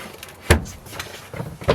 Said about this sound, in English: Hatch door going into the back.